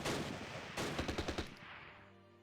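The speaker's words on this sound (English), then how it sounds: "we hit the gun with the artillery strike" Artillery strike explosions in the World War II tactics video game Close Combat: a loud opening blast, then a quick cluster of sharp detonations that fades into a lingering rumble, with no talk over it.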